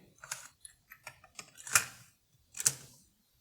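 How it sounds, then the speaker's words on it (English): A cassette tape is flipped in a Technics RS-M215 deck, giving a quick run of small plastic clicks and taps up close, then two sharper snaps as the mechanism shuts. "I'm gonna flip over the tape."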